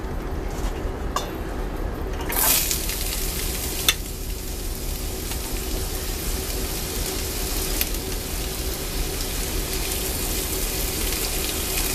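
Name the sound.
potatoes sizzling in cast iron skillet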